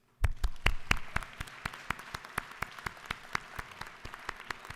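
State legislators in the Georgia House chamber give a short round of hand claps, starting as a burst of dense clapping and quickly thinning to scattered, individual claps that trail off over a few seconds.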